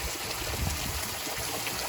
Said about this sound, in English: past this little waterfall.